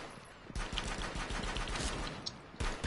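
Rapid bursts of automatic gunfire ring out in a Rainbow Six Siege match, with a string of close shots through the middle and a final burst at the end.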